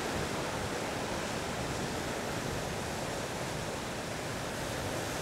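Ocean surf on the shore of Tokunoshima makes a steady, even roar that hisses without clear breaks between waves, moderately loud and with no voices.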